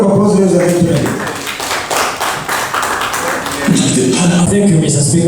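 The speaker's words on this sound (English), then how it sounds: "Give me a round of applause, ladies and gentlemen." Applause from an audience at a panel discussion on Russia, Ukraine and the UN Charter, a loud, steady patter of clapping that fills the whole clip, with voices talking at the start and again toward the end.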